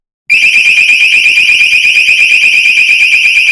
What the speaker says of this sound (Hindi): आपने देखा कि अलार्म काफी तेजी से बजा है